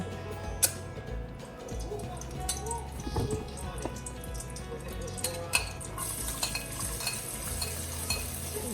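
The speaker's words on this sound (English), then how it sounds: "I am going to add 1 onion that I chopped and let that saute a little bit" Chopped onion sautéing in a pan for lasagna gives a low, steady crackling sizzle with scattered ticks and clinks of stirring. The sizzle brightens and grows fuller near the end.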